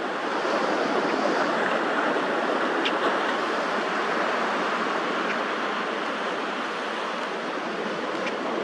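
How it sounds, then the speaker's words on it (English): Ocean waves and tidal water at a beach form a steady, loud, continuous wash of surf with wind noise and no break throughout. "that water is moving. We've got tidal activity here at the beach"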